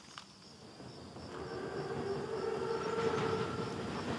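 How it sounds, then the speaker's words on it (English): A German Panzerzug armored train in the video game Call of Duty: WWII rumbles closer, its rolling clatter steadily rising in loudness, with a faint tonal whine above it. "Train's right on time. Biggest train I've ever seen. Thickest armor, too. It's a Panzerzug."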